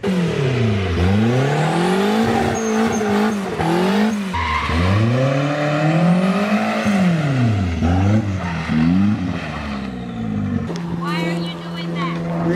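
Mazda Miata doing donuts, its engine revving up and down in repeated swells with tire squeal throughout, loud and close, with people talking over the noise.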